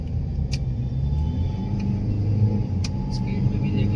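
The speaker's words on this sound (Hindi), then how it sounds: "अब हम चल रहे हैं फाइनल बाहर मेन रोड पे" A Mahindra XUV500 travels along a main road after brake repair work, its low, steady engine and road rumble continuous from inside the cabin, with a few brief faint clicks above.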